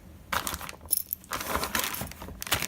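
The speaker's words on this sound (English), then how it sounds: "These look like little keys here." Small metal keys from a Synology DS918+ NAS accessory pack jangle and clink in bursts, close up, with short pauses between shakes.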